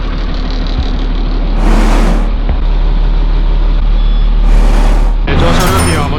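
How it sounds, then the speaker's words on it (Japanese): A bus pulls up at a roadside bus stop in Seychelles, its steady low engine rumble loud and close throughout, with brief hissing bursts like air brakes and a final louder rush as it stops. "バスがやってきました。"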